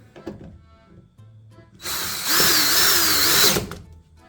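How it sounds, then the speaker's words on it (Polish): A power drill drives a screw from above while a tumble dryer's drum rollers are being replaced, an Electrolux Perfectcare 800 EW8H458BP, with one loud, steady whirring burst of nearly two seconds after a few light handling knocks. "no i teraz trzeba to skręcić. Wkręt od góry"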